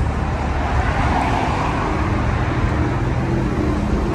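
The 2.0-litre engine of a used car with 145,000 miles runs at a steady, loud drone with a broadband road-like hum and no clear changes in pitch.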